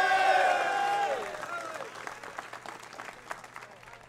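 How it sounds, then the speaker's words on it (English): An audience claps at a commencement ceremony, loud applause at first that thins into scattered claps and crowd noise, with a voice speaking over it. "Please give him a round of applause."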